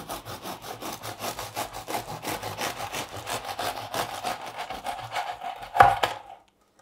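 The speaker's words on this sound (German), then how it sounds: "Ihr könnt das Brot natürlich auch auskühlen lassen und ich schneide das jetzt mal an." A knife saws through a freshly baked, still-warm gluten-free yogurt bread loaf with seeds, a steady rhythmic back-and-forth rasp of about a dozen strokes, close and clear, ending with a final louder cut before silence.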